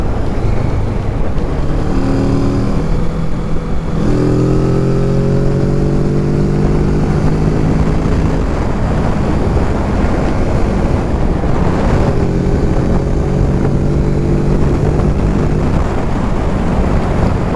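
A 2020 Kawasaki Z650 motorcycle accelerates through its gears, the engine note climbing in steady rising sweeps with brief dips at each shift, heard under constant loud wind rush from riding at speed.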